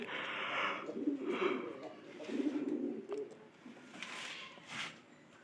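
A pigeon coos in a backyard coop. The soft, throaty calls come in repeated rounds at close range, with no talk over them.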